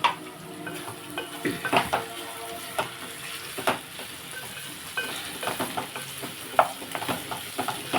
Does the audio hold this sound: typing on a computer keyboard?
no